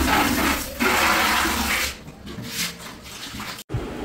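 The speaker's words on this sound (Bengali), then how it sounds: "রং মিস্ত্রি এখন বালতিও ধুচ্ছে।" Water splashes and gushes as a painter rinses out a paint bucket, a loud pour followed by quieter sloshing and a brief cut, no talking.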